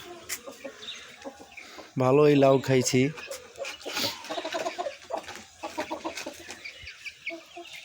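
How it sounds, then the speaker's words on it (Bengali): Large chickens on a home rooftop give a loud, close burst of clucking calls lasting about a second, while someone talks before and after it. "মুরগিগুলা দেখছেন আপনারা, মুরগিগুলা বিশাল, অনেক বড় বড় মুরগি।"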